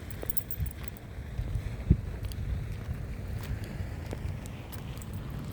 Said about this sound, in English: So far it's not too bad. Just a little bit of wind.